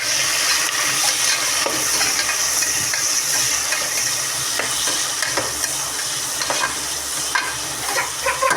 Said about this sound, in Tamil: எண்ணெய் வச்சு பட்டை பயிர் போட்டு வெங்காயம் தக்காளிலாம் போட்டிருக்கோம்.